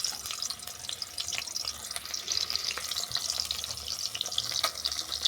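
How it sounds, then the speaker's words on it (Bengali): A rohu fish head fries in hot mustard oil in a kadai, giving a steady loud sizzle and crackle that runs throughout without talk. "এরপর মাছের মুড়োটাকে আমি ভেজে নেব।"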